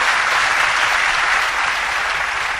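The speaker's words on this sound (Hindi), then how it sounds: "पहले इसके प्रश्न के लिए एक बार तालियां बजा दीजिए।" A large audience at a Hindi spiritual discourse claps loudly and continuously, a thick, steady wash of applause that holds at full strength for the whole stretch.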